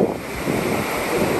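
Ocean surf washing onto a beach at Punta Mita, Mexico, a steady rushing roar mixed with wind buffeting the microphone.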